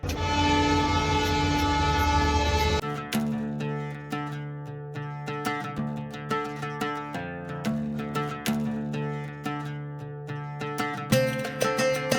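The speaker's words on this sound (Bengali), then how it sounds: "হুইসেল দিয়ে ট্রেনটি যথাসময় ছেড়ে দেয়" A loud, sustained train whistle blares for a few seconds, then cuts off as rhythmic wheel clatter and mechanical clanking build as the train pulls away from a station.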